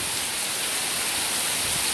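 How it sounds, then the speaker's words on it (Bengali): Heavy rain falling in big drops in Chapainawabganj, a dense, steady hiss of downpour with no breaks, loud and even from start to finish. "অনেক বড় বড় ফোঁটায় কিন্তু বৃষ্টি পড়ছে"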